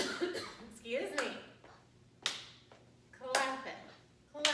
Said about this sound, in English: Clap it, clap, clap